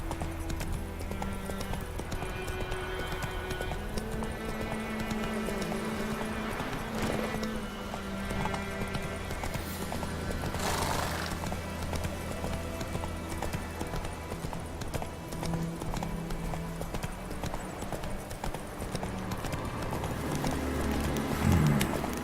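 Hoofbeats of Geralt's horse Roach galloping in The Witcher 3, a steady rapid clip-clop rhythm running throughout under a game music score, with a brief whinny-like burst midway.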